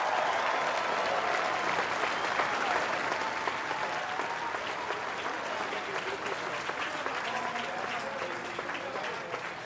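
A large outdoor crowd at the Goodwood Festival of Speed cheers and applauds in a dense, sustained roar that fades slightly toward the end.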